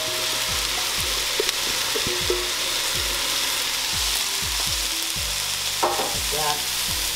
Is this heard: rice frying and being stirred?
yes